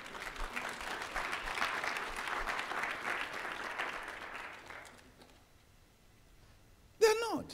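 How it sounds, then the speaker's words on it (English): Congregation at a Christian church service applauding steadily for several seconds, the clapping fading out around five seconds, followed by near silence and then a short bright electronic chirp at the end. "Let's clap for Jesus."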